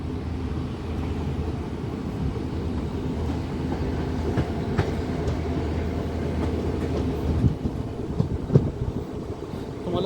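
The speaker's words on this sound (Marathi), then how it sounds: "मित्रांनो गाडी जी थांबली होती ती आता पुन्हा चालू झालेली आहे" A Miraj–Kolhapur DEMU train rolls on again after a crossing stop, a steady close rumble of wheels and carriage with faint clickety-clack and occasional knocks, heard from on board without talk.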